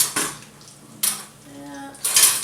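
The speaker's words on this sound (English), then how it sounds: "I better have a good thing to stir it with" A utensil scrapes and clinks against a pot while a flour-and-butter roux is stirred, giving three sharp metallic strokes close by with a soft sizzle between them.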